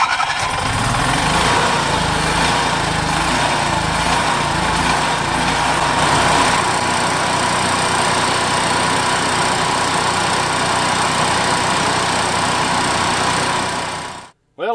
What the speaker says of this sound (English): It's running really smoothly out now.